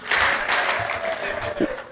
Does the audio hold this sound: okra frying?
no